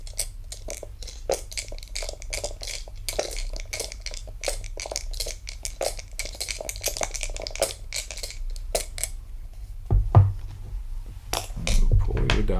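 Dice rattling and clattering inside cups during a saloon-style Liar's Dice game, a dense run of small hard clicks and shakes close up, ending with a louder tumble as they pour out.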